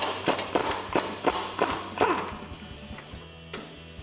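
A ratchet with a 19 mm socket loosening the nut on a lower strut mount, giving a short series of close, evenly spaced clicks and knocks that trail off, with no talking.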